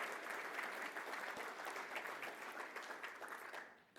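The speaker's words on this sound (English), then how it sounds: "think a round of applause for those guys as well." A conference audience gives a round of applause, a dense wash of clapping that holds steady and then fades out at the close.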